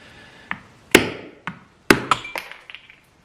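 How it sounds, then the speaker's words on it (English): A hard walnut is struck with a hammer, several sharp, separate cracking knocks with short pauses between, close and fairly loud, followed by a quick run of lighter taps. "we'll crack them open and harvest some walnut"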